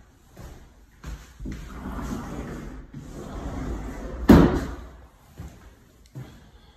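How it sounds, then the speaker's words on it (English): A sliding closet door in a renovated bedroom rumbles along its track in a couple of low rolling passes, ending in a sharp thud as it closes, then quiet room sounds. "We got a sliding door closet."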